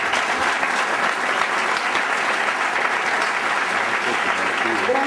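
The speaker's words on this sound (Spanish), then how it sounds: "vamos a dar un fuerte aplauso a los compañeros" Gathering at an encounter between Zapatista and other peoples breaks into sustained, dense applause, loud and continuous throughout.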